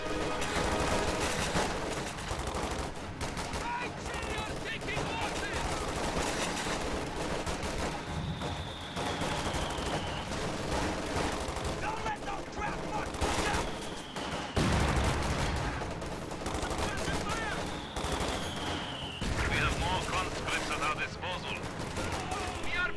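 Rifle and machine-gun fire crackle continuously in a WWII strategy video game, with dense bursts of shots and occasional whistling projectiles, while someone commentates over the battle.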